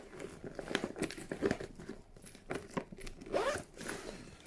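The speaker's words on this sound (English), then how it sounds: "These zips are fantastic with a little Swiss" A zipper on a Swissvax case being opened, several quick rasping zips mixed with crinkling, close and moderately loud.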